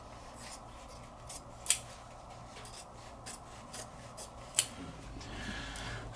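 Scissors trim excess suit coat front canvas in a few quiet snips with light rubbing of the fabric between cuts.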